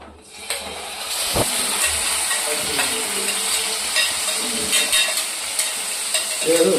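Garlic fries in hot oil for pepper chicken masala, with a close steady sizzle and hiss, a sharp clack near the start and a few scraping stirs.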